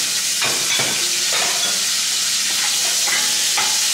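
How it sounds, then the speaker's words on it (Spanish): Squid sauté in hot oil in a pan, a loud steady sizzle and hiss filling the whole stretch, broken by several brief stirring scrapes at irregular intervals. "en ese aceite lo que hacemos es saltear los chipirones"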